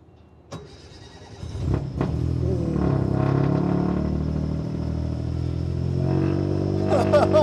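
Peugeot 208 Rally4 rally car's three-cylinder engine starting, then idling with a loud, gruff rumble and a few blips, close by, with people talking over it.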